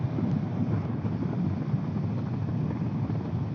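Steady, loud wind roar buffeting the microphone while riding a Suzuki GSX-R 750 motorcycle on a cool early morning, a continuous low rumble with no breaks and no talking.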